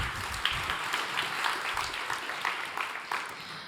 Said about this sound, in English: Round of applause for Lev.